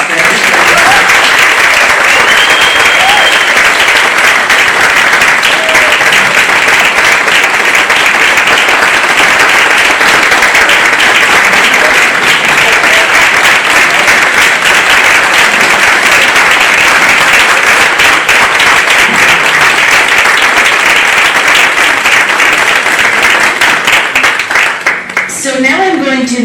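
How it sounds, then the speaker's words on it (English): An audience at a university concluding plenary applauds, dense sustained clapping that fills the room at full volume and tapers off only at the very end. "And so little applause for everybody."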